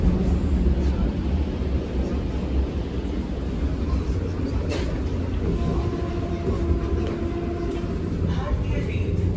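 A Vande Bharat express train runs at Mysore railway station, giving a steady low rumble and rolling noise throughout, with people talking over it.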